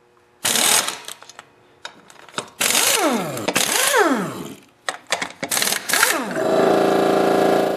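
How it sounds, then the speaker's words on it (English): An impact wrench with a 17mm socket removes the wheel nuts on an ATV, firing in several loud, close bursts of rapid hammering with spin-up and spin-down whines, short gaps and clinks between them. "Next, I'm going to use my impact wrench with a 17mm socket and remove the 4 nuts that hold the wheel on."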